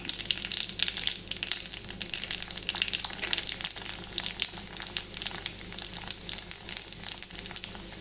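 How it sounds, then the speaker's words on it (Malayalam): Dense, rapid crackling and popping of mustard seeds spluttering in hot oil, close and steady throughout with no voices. "കടുക് പൊട്ടി വരുന്നുണ്ട് ഏകദേശം"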